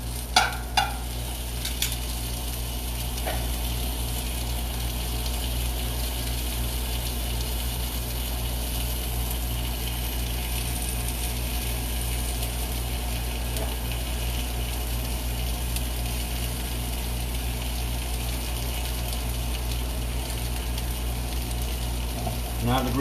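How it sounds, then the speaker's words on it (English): Green onions sizzle in a hot pan during a cooking demonstration, a steady close frying hiss running throughout with a few sharp clinks and stirs near the start and end, a low hum beneath. "Now I'm just gonna add the green onions"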